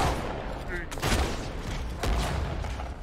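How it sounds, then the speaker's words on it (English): Shotgun blasts in the video game Halo 2: Anniversary, two loud booming shots about a second apart amid steady game noise, with a voice talking over the action. "Ooh, shotguns!"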